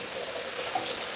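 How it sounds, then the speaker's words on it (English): A kitchen tap runs steadily in the background, a constant broadband hiss of flowing water with no pauses and no voices over it. "You hear water in that background here."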